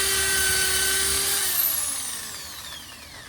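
A power drill spins at a high-pitched whine while drilling a curtain rod hole, then slows and fades as the motor winds down, heard up close and alone.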